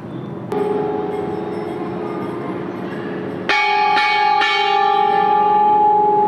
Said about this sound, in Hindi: एक घंटा बजा दिया प्रभु का